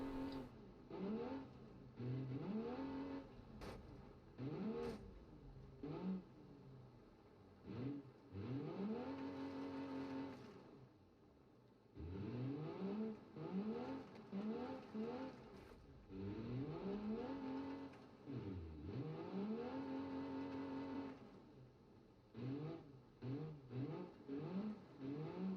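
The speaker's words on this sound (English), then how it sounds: "that's a lot of wheel spin" A car spinning its wheels on dirt in the BeamNG driving game, the engine revving in repeated rising and falling bursts with short pauses between, fairly close and loud with no voices over it.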